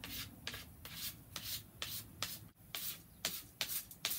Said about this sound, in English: I always take something simple, bottle cap, whatever, and just start smoothing out all those wrinkles and bumps